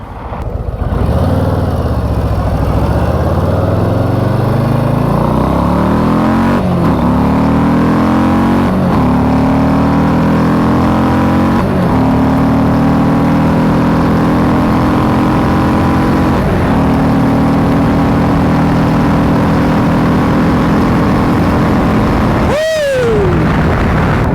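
An Indian motorcycle engine revs loud and close, its pitch climbing at first and then holding a steady, throaty drone for a long stretch, with a sharp rev blip and drop near the end.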